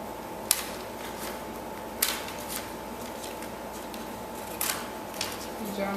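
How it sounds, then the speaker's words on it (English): Scissors snip through paper to cut out pictures in a classroom, a few sharp, separate crisp cuts spaced over several seconds against a quiet room background. "Scissors ready."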